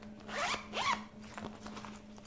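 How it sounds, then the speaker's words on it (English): Zipper on the back pocket of a Mosiso envelope laptop sleeve, two quick close zipping strokes followed by softer handling noises, with no talk. "It has a zipper in the back."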